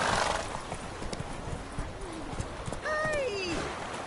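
Roach, a horse in The Witcher 3, gallops with rapid rhythmic hoof clip-clops and lets out a whinny partway through, while a voice speaks briefly over the galloping.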